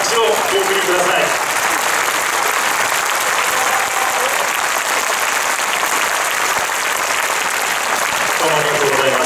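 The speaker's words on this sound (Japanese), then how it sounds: "もう一度、大きな拍手をお送りください。" Sustained audience applause at a constitution rally in Kyoto fills the room, steady and loud throughout, with faint voices mixed in near the start and end.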